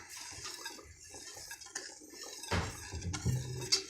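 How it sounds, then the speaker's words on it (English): A quick whisk stirs a salt or sugar crystal-growing solution in a container, making light clinks and scrapes of utensil on vessel. The sound is brief, close and fairly quiet, with no speech. "I'm gonna give this one a little whisk"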